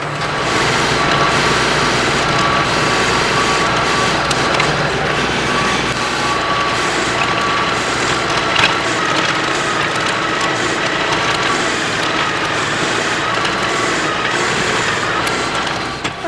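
A PTO-driven tiller on a tractor, working a food plot, runs loudly and continuously, its engine drone mixed with rattling, clanking machinery throughout.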